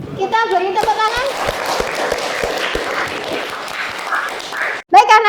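A classroom of children claps in a brief patter after a voice speaks over the start. Lively young voices and chatter join in before a sharp cutoff, then talking resumes.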